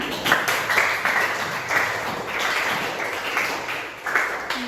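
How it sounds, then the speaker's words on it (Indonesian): Applause from a classroom group during a chemistry lesson: a steady patter of many hands clapping for a few seconds with a few louder bursts. Nobody speaks. "tepuk tangan untuk kita semua"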